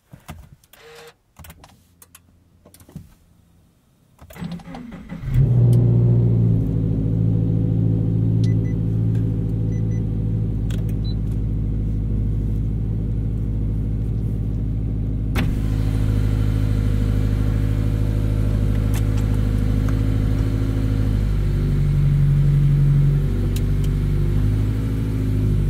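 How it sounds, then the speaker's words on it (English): A Subaru BRZ with a new Corsa replacement muffler makes a cold start: near-silence, then the engine cranks and fires at about five seconds and settles into a loud, steady, rumbling idle with no talk. "Thought I'd give you guys a cold start in the BRZ with the new Corsa muffler."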